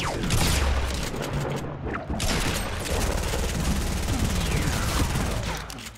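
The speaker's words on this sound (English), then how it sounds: "He's over here shooting me from behind, bro." Sustained video-game gunfire in Fortnite, dense bursts and shots layered over each other, loud and continuous throughout with no talking.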